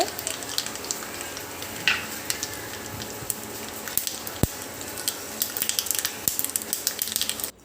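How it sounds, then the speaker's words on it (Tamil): Oil sizzles steadily in a pan while mustard seeds and lentils pop and crackle in quick, irregular bursts, close up. "2 ஸ்பூன் அளவுக்கு எண்ணெயும் கடுகு, உளுந்தம்பருப்பும் சேர்த்து நம்ம வந்து சேர்த்துக்கலாம்."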